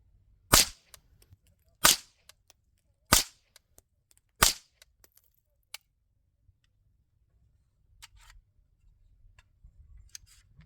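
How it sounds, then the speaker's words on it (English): Suppressed DBX57 shots through a Huxwrx Flow .22 Ti suppressor: four sharp cracks spaced about a second apart outdoors, then quiet with faint ticks and small noises afterward. "I'm going to go ahead, suppressed, 5 rounds,"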